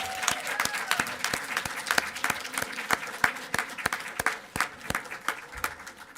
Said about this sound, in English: One more last applause.